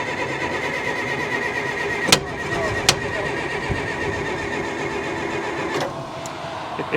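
An engine cranking and running on a 1925 Ford Model T outdoors on dirt and gravel, a steady loud mechanical drone with a few sharp clanks and knocks standing out above it.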